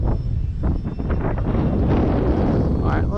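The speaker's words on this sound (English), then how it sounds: "See, the wind now has shifted yet again." Strong wind buffets the microphone at an RC flying field where a Durafly Tundra model plane is flown, a loud, rumbling gusty roar with faint voices mixed in.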